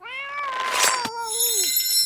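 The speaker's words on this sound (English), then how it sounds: "You fed the cat Sophie's prenatal vitamins" A cartoon cat in the animated series Velma lets out one long, drawn-out meow that slides down in pitch at the end. A brief clink cuts through midway, and a bright high ringing tone follows.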